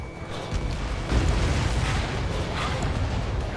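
A deep, rumbling explosion rolls through as an enemy transport is destroyed in the Ace Combat game, a broad low roar swelling after a moment and lingering loudly throughout.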